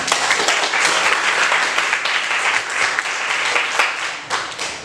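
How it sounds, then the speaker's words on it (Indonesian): An audience applauds at the end of a university lecture, a dense, steady burst of many hands clapping together that carries on for several seconds before starting to thin out. "Aplaus untuk kita semua."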